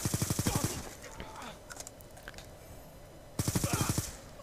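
Gunfire crackles during a multiplayer fragging session in a console shooter. Two rapid automatic bursts, each under a second, come close and loud, with quieter scattered shots and background game noise between them.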